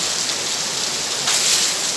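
Heavy rain pours down steadily outside near a bank ATM, a dense, loud, unbroken wash of hiss that swells slightly partway through, with no voices.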